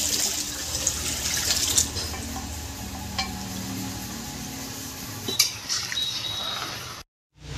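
Hot water added to a pot of ghugni, a coconut-spiced dried pea curry, giving a continuous watery rush and stirring clatter with a few metallic knocks, ending in a sudden cut.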